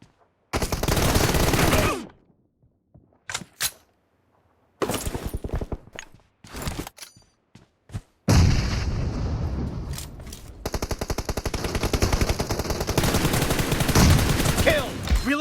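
Gunfire in the video game PUBG Mobile comes in repeated loud automatic bursts separated by gaps, with single shots in between and a long sustained volley toward the end, close and intense, with occasional shouted voices.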